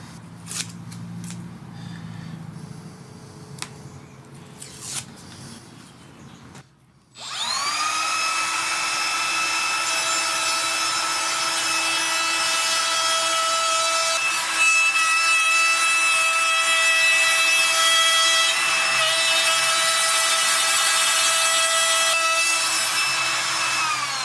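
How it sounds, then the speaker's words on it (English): Trim router fitted with a pattern bit cutting wood over scrap plywood on a bench: a few soft handling noises, then the motor starts abruptly and runs as a loud, steady high whine with a grinding cutting edge. "what I'm going to do is use my trim router with a pattern bit"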